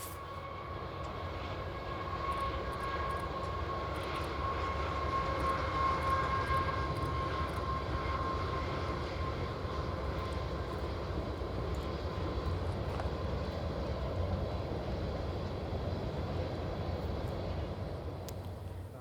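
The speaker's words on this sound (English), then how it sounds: "Here's the train passing a little bridge just east of Timpas." A long freight train rumbles over a small bridge just east of Timpas at a distance, with a steady low roar and faint metallic squeals, continuous throughout with no voices.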